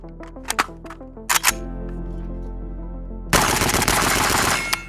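Two short shot bursts from a PSA 5.56 Krink rifle early on, then a sustained loud rapid volley of fire with dense impulsive reports, no talk.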